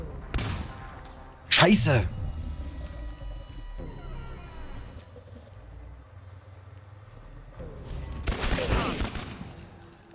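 Gunfire in the survival shooter ChernobyLite, with a sharp loud burst of shots early on and another heavy blast near the end, a voice swearing between them.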